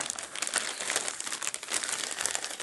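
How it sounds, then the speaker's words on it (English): Close-up crinkling of the plastic bag around a Logitech wireless keyboard being unboxed, rustling and crackling in irregular bursts with no voices. "It's in a plastic bag here."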